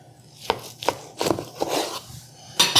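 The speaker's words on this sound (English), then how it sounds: "I'm going to take our knife here." A knife cuts through chicken for chicken salad in a series of sharp, close chops and scraping strokes on a board, about five or six cuts spaced out over a few seconds.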